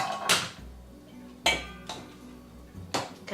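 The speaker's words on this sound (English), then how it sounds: "I'm going to mix it up with a spoon." A spoon clinks and scrapes against a dish while half a cup of milk is mixed into a tuna noodle casserole, giving a few sharp, close knocks spaced a second or so apart with quieter scraping between.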